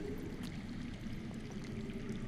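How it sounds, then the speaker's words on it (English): Steady low rumble of underground running water in the Game of Thrones video game, a continuous muffled flow heard alone at low volume throughout. "I hear water. From underground?"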